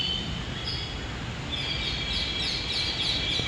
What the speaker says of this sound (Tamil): பாருங்கள், எவ்வளோ அழகான பறவைங்க சத்தம்